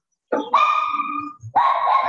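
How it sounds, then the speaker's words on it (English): A dog barks twice, close and loud, each bark drawn out into a whiny, yelping tone with a short pause between them. "My dog is barking."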